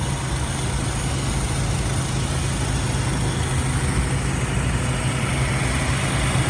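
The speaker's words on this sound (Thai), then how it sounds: "เครื่องยนต์เดิน นิ่มเรียบนะครับ" A steady, low engine rumble idles continuously at close range, smooth and unchanging with no voices.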